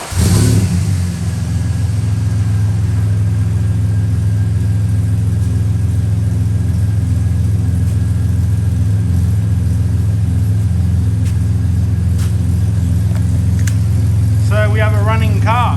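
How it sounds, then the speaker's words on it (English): Turbocharged Ford EF Falcon engine running on petrol, a steady low rumble idling continuously throughout with little change in pitch, close by, a brief chirping at the end. "So we have a running car on fuel now."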